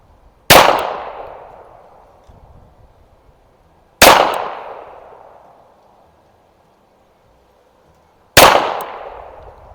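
Three loud, sharp gunshots spaced several seconds apart from a 1922 Colt 1911 Government .45 ACP pistol firing steel case ammunition at a range, each crack decaying quickly into quiet.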